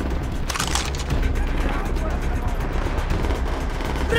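Sustained gunfire in Call of Duty: World at War: rapid machine-gun bursts rattle continuously over a dense roar of battle, loud and close throughout, with voices shouting beneath the din.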